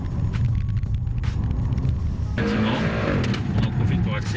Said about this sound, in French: Ouais, la voiture qui glisse.